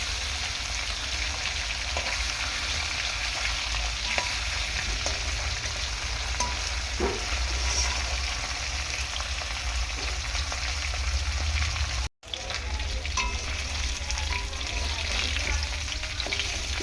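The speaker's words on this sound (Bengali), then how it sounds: "উল্টে পাল্টে মাছটাকে ভালো করে ভেজে নেব" Fresh bele river fish frying in a pan, a steady, dense sizzle that runs the whole time with faint stirring and a brief dropout near the end, and no talking.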